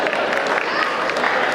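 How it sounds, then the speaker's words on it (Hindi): Audience at a comedic talk applauds, men clapping, a dense continuous burst of hand claps from a crowd, fairly close and even, with no speech over it. "देखो पुरुष ही ताली बजा रहे इस बात पे"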